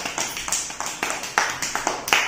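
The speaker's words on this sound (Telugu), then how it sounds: "క్లాప్స్ కొట్టండి అక్షయ్కి." A first-grade classroom of children claps for a classmate: a loose run of sharp, uneven hand claps at a steady rhythm, fairly close and moderately loud, with no talk over them.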